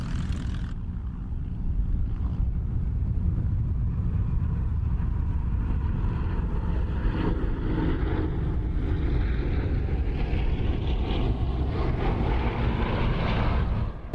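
Five Bristol Mercury-engined vintage aircraft, including a late RAF biplane fighter, flying together at the Duxford Battle of Britain air show, a loud continuous radial-engine drone that swells and shifts as they pass.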